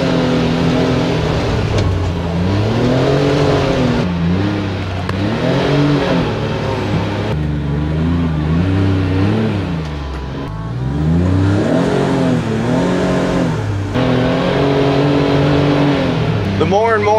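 An enclosed-cab UTV driving along trails, its engine droning and revving up and down in repeated surges, heard from inside the cab at a close, steady loudness.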